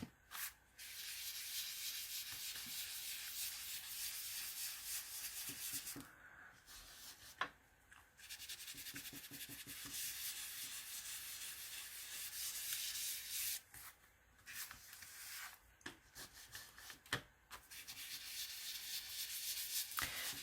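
An ink blending tool rubs ink across a paper postcard, making a soft, steady scratchy swishing close up, in repeated strokes broken by short pauses.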